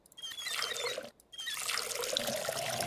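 Water runs from a tap in the video game Schedule 1, a soft steady trickle and pour with a brief break before it resumes, fairly faint and alone.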